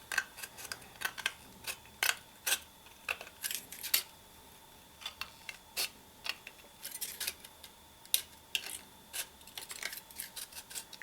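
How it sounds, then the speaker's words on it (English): Scissors snipping through a thin aluminum Arizona Tea can along the painted edge, a close, dry run of irregular clicks and crisp metallic crunches with brief pauses, no talking. "I want to take my scissors and follow that line."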